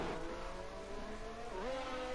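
A Formula 1 race car in F1 22 at the Melbourne Grand Prix accelerates hard out of the final two corners, its engine note rising through gear changes, loud and close, with no talk over it.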